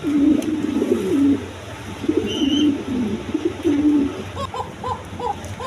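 A pair of big red-geared King pigeons cooing close by, repeated rolling low coos in a steady rhythm, clear and fairly loud, with softer short calls toward the end.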